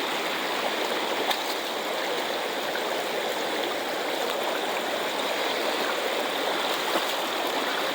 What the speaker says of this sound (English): And here we got the river.